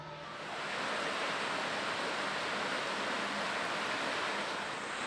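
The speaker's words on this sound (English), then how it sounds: "Water flows through the 150 millimeter in diameter pipes, just like in a real sewer network." Water rushes steadily through 150 mm acrylic sewer pipes in a hydraulics laboratory, a broad, even hiss-and-roar of flow that swells slightly at the start and then holds constant, with no voices.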